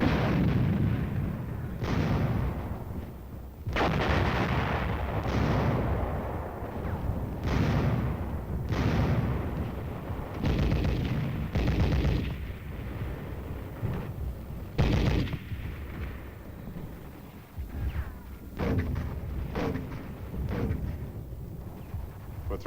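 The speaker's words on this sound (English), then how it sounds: "Once again, artillery, tank, and mortar fire overtured the attack." Korean War combat at Bloody Ridge with the US 2nd Infantry Division: artillery, tank and mortar fire booms in repeated heavy blasts, some spaced out and some in quick clusters, each trailing into rumbling echoes.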